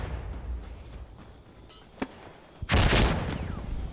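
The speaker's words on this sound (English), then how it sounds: "I'm throwing a grenade!" A grenade detonating in the video game Death Stranding, a few sharp pops followed by a sudden loud blast with a rumbling tail near the end, close and with no talking.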